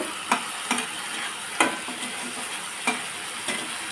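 Ginger, cumin and chili paste sizzles in hot oil in a pan while a spatula stirs it, with steady frying hiss and several distinct scraping knocks spaced irregularly, close up with no talk.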